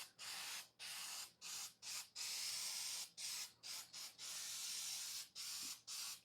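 Bursts of aerosol spray paint hiss in short, rhythmic pulses with brief pauses between them, close and fairly quiet, painting a part of a Ford 351 truck engine.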